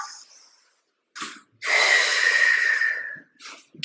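Deep breaths during a workout: a short sharp inhale, then a long loud forceful exhale hissing out for over a second, followed by another quick breath, close and with no talking.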